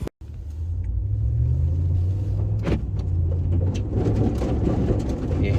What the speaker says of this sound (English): This truck is making a lot of noise.